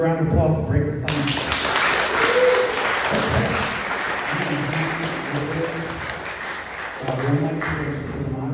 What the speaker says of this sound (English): Another round of applause to break the silence.